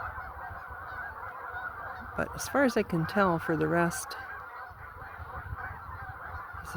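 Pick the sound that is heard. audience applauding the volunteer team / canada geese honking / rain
canada geese honking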